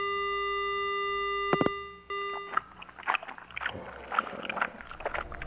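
A steady telephone dial tone in the horror game Death Mark holds alone for about two seconds, then cuts off, followed by quiet irregular clicks and soft rustling noises.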